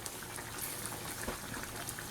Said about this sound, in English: so that's just going to simmer away.